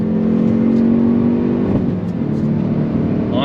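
A 2022 Hyundai Veloster N front-wheel-drive hot hatch accelerating through a long sweeping bend, a loud close engine drone with shifting pitch and a brief change midway, no talking.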